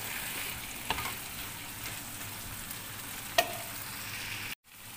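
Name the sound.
tomatoes frying in pan for chicken curry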